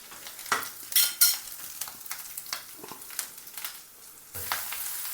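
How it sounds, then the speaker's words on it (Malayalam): Ginger garlic paste and grated coconut fry in a pan for a chicken curry, with a low sizzle broken by several short stirring scrapes and knocks. Near the end the sizzle grows louder. "കൂടാതെ ജിഞ്ചർ ഗാർലിക് പേസ്റ്റും അതുപോലെ തന്നെ തേങ്ങയും കൂടി ചേർത്ത് നന്നായിട്ട് ഇതിനൊന്ന് പച്ചമണമൊക്കെ ഒന്ന് മാറുന്നവരെ ഒന്ന് മൂപ്പിച്ചെടുക്കാം."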